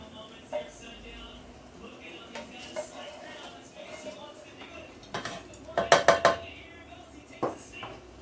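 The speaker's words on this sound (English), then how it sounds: "Transfer the onions over." Cooked translucent onions being scraped out of an oily pan into a dish, with scattered utensil scrapes and clinks building to a burst of clattering metal near the end, all fairly quiet.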